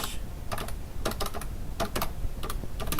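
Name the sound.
typing a title on a computer keyboard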